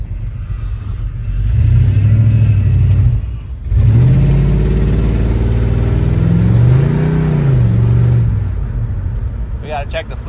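A V8-swapped Chevy S10 pickup drives along with a loud, steady engine drone that rises in pitch, dips during a gear change, then climbs again, with an automatic transmission that slips slightly between gears. People talk over the engine noise inside the cab.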